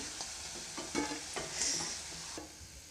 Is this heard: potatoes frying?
yes